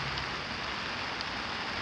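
Rain falling outside on a residential lot, a steady, dense hiss of drops on surfaces with no other sounds, evenly loud throughout the short stretch.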